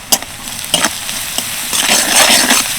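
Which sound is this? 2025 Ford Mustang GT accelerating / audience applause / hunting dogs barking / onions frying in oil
onions frying in oil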